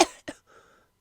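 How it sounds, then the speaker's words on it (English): Two sharp, wet coughs close up as someone coughs up a thick green substance, followed by a faint raspy throat sound as it trails off. "X-Force's handler coughs up a thick green substance"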